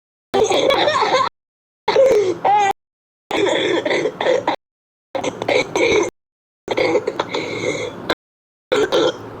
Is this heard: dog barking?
no